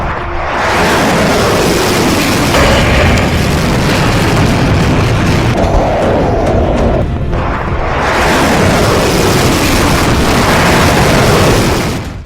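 Loud, heavy roaring blasts and rumbling booms from a missile explosion fill the clip continuously, with debris and harsh noise, close and overwhelming.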